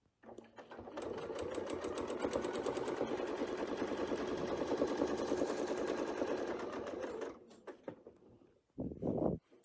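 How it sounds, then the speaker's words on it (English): A sewing machine stitches a quilt along a crosshair line, running steadily at close range for about seven seconds before stopping, then giving one more short burst. "I'm going to sew around to the next crosshair line right there."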